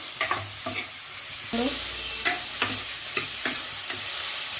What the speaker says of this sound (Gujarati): હવે આપણે તુરિયાને એકદમ હલાવી લઈશું.